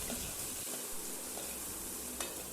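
Onions fry in a pan for a fish curry, with a dense continuous sizzle and a few faint stirring scrapes. Close and steady, with no talking.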